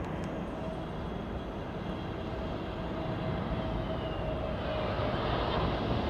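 A Royal Air Maroc airliner in oneworld livery roars steadily at Heathrow, a broad, sustained engine rumble with a faint whine that swells slightly toward the end, no voices over it.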